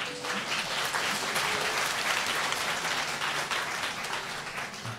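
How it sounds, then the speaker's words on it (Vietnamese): Audience applause welcomes a singer onto the stage at a love-song concert show, a steady, dense wash of clapping that holds for about five seconds with no talk over it. "ngay bây giờ một tràng pháo tay"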